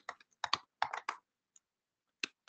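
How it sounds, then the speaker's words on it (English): Computer keyboard typing PL/SQL code in VS Code: a few quick clusters of crisp keystrokes, close and fairly quiet, with short pauses and a lone click between bursts. "now I can actually start typing some PL SQL code"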